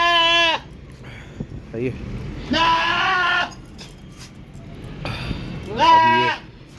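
Goats on a small farm bleat in three loud, wavering calls spread across the moment, with someone speaking briefly between them.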